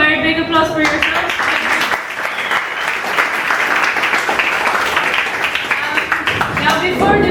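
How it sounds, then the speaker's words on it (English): An audience claps loudly and steadily at the close of a classroom industry-problems session, a dense continuous wash of applause with voices talking over it throughout. "a very big applause for yourself"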